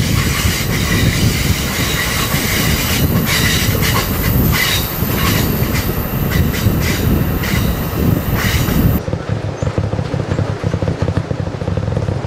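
A train rumbles along loudly nearby, with rattling wheels and clattering over the rails, then the noise drops to a quieter, steadier rolling hum.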